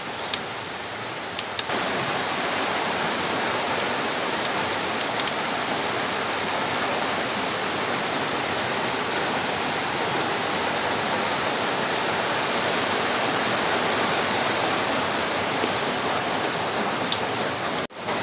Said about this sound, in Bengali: তো আবারও বৃষ্টি শুরু হইলো